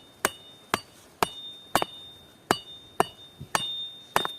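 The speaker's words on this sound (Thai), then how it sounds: "ตอกเลยครับ" A stake being hammered into cleared ground with sharp, ringing blows, about nine evenly spaced strikes at close range, each with a brief metallic ring, and no voices.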